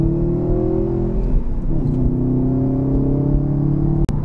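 A Subaru turbocharged manual sports car engine pulls steadily under acceleration while driven, a close, continuous rising drone with smooth linear build and a brief gear-change dip, with no talk over it.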